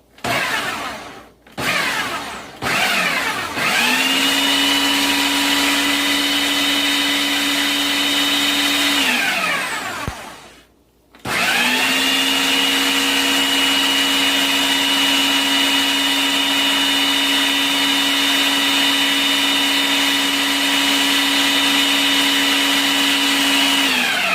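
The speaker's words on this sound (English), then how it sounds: "We'll stick it on the food processor. And we're going to hit" A food processor blends hot chocolate mix with a loud, steady motor whine after a few short spin-up bursts. It cuts out briefly partway through, then starts again and runs on without pause.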